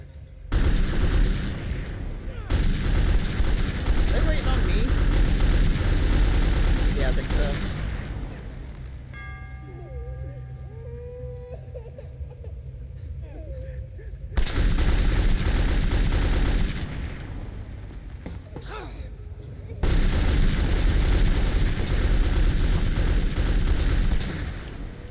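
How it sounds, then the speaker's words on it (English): A big mounted gun fires in the Metro 2033 video game, pounding out long, loud, sustained bursts that break off into a quieter lull midway before roaring back for the rest of the stretch. "Get me on the big gun."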